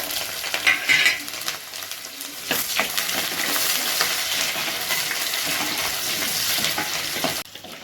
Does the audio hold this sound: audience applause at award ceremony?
no